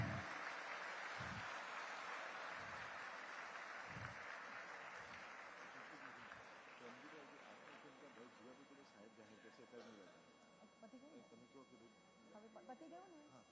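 An audience at a ceremony applauds to welcome an organisation's general secretary, a dense, close burst of clapping that gradually thins and fades, with voices emerging underneath toward the end.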